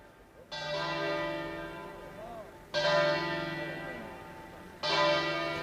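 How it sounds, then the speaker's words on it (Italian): Church bells toll at a funeral in Anguillara Veneta, Italy, three loud strikes a couple of seconds apart, each ringing with a long, slowly fading resonance. "il silenzio rotto dal suono delle campane"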